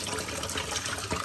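Salted bitter gourds (karela) are rinsed under running water, giving a brief close splashing and trickling with soft irregular sloshes from handling.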